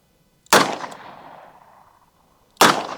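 A compact handgun fired one-handed: two sharp, loud shots about two seconds apart, each trailing off in a short echo, with no talk.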